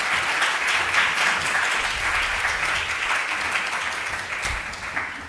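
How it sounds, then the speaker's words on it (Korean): Audience applause fills a book concert hall as a violist is welcomed for the opening performance, a dense, steady clapping that stays loud throughout and thins slightly toward the end. "박수로 네, 맞아주십시오."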